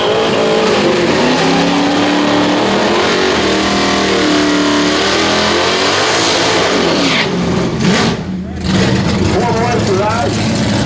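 A 1969 Super Bee drag car roars down the strip at a drag racing event, its loud engine revving steadily for several seconds under an announcer's continuous commentary.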